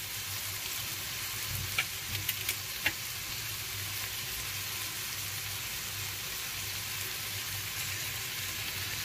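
Vegetable pulao with salt, garam masala and biryani masala is stirred in a pan, giving a soft steady sizzle with a few brief scraping clicks from the spoon partway through.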